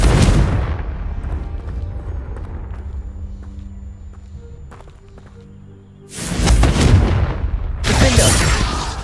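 Confringo blasting spell exploding in the Hogwarts Legacy video game: a heavy booming burst at the start decaying into quiet ambience, then two more loud rumbling blasts toward the end.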